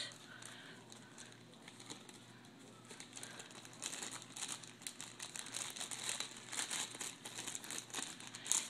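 Small metal brads and buttons being dropped and slid into a plastic Ziploc baggie, giving soft crinkling and rustling of thin plastic that grows busier toward the end, close and fairly quiet with no talking.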